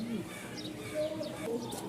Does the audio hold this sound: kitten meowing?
no